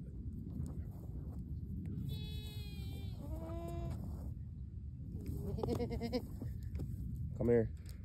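A mother goat on a homestead lets out several wavering bleats, some long and some short, over a steady outdoor background while a person talks nearby.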